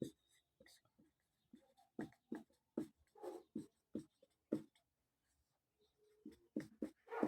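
A teacher writes math notes during a lecture on sets, with a series of short, faint scratchy strokes in uneven bursts, close by and quiet.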